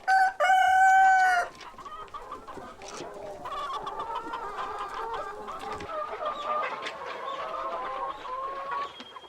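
Chickens on a rural Korean homestead: a rooster crows loudly up close at the start, then several hens keep up a busy stream of clucking and chattering.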